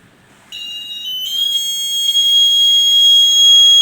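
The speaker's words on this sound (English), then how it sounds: "When the buzzer rings, we can take actions." A buzzer at a school science expo sounds a steady, shrill electronic tone that starts suddenly after a brief quiet moment and holds on, growing slightly louder, with no talk.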